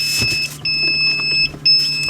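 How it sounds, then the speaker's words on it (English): A chicken egg incubator's alarm sounds a series of shrill electronic beeps, each held briefly with short gaps between them, close and clear above a faint background hum. "And we'll shut the alarm off on that."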